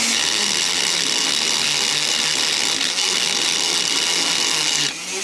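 Carbide bit grinding a Garelli moped engine case and cylinder ports: a loud, continuous high-pitched rotary whine that stays steady and close throughout before cutting off sharply near the end.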